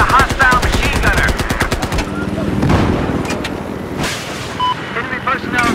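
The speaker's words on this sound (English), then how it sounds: "I got eyes on a hostile machine gunner" Gunfire in a Sunken Dragon round of a video game comes as a loud rapid burst of machine-gun shots at the start, followed by scattered bangs, game music and effects.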